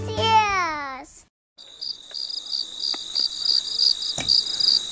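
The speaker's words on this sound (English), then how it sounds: "Sounds like Don's got the crickets going, Roy." Crickets chirp in a steady, high, pulsing trill outdoors at a March high school baseball game, filling the background after a brief stretch of talk and a short silence.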